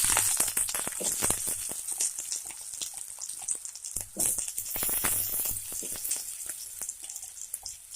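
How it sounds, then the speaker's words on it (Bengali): Potatoes fry in hot mustard oil in a village-style Bengali kitchen, giving a steady loud sizzle with dense crackling pops throughout, no talk over it. "তেল গরম হয়ে গেছে, প্রথমে আলুগুলো ফ্রাই করে নেব।"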